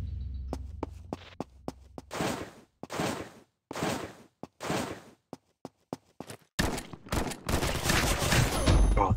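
Shotgun fire in a video game: a rapid string of sharp, loud blasts followed by longer, roaring bursts of gunfire, close and with no voices.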